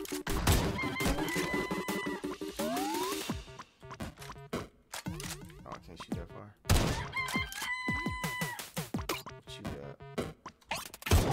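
Cartoonish chickens cluck and crow in the PlayerUnknown's Battlegrounds parody game Playeromnom's Battlegrounds, loud and busy, mixed with rapid thunks and whacks of combat.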